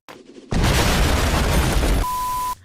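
A bomb item explodes in the video game RUN BOI RUN!, a sudden loud, dense blast of noise lasting about one and a half seconds, followed by a steady electronic tone.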